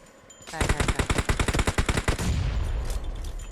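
A rapid burst of automatic gunfire in PUBG Mobile, about twenty sharp shots in quick succession, then a lingering rumble and faint noise.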